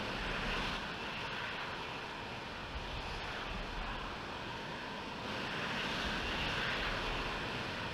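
An aircraft on a runway in the flight simulator Falcon 4 Allied Force, a steady broadband engine roar that stays fairly faint and swells slightly toward the end.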